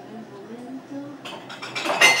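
Dishes being washed in a home kitchen: pots, plates and cutlery clink and clatter close by, growing busier and louder toward the end after a brief low murmur at the start.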